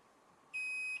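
A single short beep from a continuity tester during a calculator repair, a clean high tone lasting about half a second over a quiet background.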